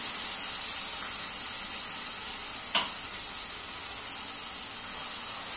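Raw ground masala paste frying with browned onion for tomato chutney gives a steady, quiet hiss throughout, with one brief clink near the middle and no talking.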